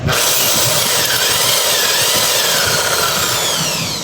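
A loud, continuous high-pitched whine of a power drill boring into stainless steel, steady and close throughout with no pauses.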